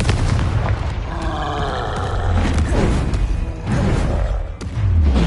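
A Confringo spell is cast in Hogwarts Legacy, giving heavy booming blasts and bursts in quick succession over a continuous musical backdrop, loud and close.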